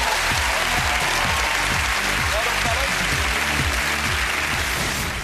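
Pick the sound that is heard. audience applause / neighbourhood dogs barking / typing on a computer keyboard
audience applause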